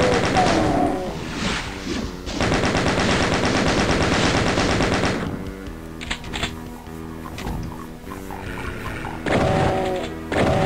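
Rapid gunfire in the Doom game on the Sunlust map, Cave Culture level: loud bursts of repeated shots, a long sustained volley, then scattered thuds and softer effects, followed by another burst near the end.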